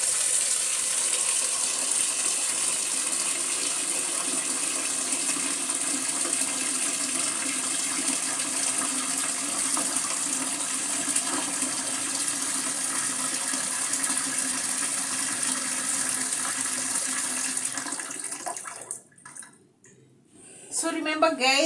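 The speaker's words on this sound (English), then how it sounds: "And then I'll add water." Water running steadily into a pot of bone broth ingredients, a continuous close rushing flow that cuts off near the end, with talking partly under it.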